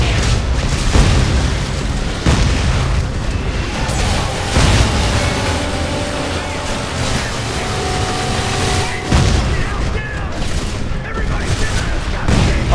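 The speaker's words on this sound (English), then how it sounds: "Grenade, grenade!" Grenade explosions in a Dead Space 3 firefight, several loud booming blasts at irregular intervals over a constant roar of combat noise, with voices talking through it.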